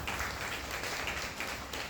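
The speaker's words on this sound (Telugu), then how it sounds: "చప్పట్లు గట్టిగా" A gathered crowd at a devotional book-presentation event for Sri Sai Satcharitra claps together, producing a sustained, even wash of applause that sounds somewhat distant.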